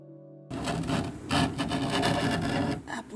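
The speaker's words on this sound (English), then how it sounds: "Upward scraping." Repeated upward scraping strokes across the wood of a mid-century modern dresser, a rough rasping rub heard close up in several bursts, loud and alone.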